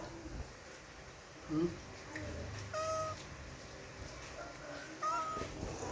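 Cats fighting let out a few short, strained yowls and meows, spaced apart and fairly quiet against a soft background hum.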